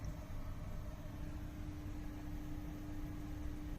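A large aquarium filter runs with a quiet, steady, even hum and a soft hiss, constant and unchanging throughout, with no other sounds.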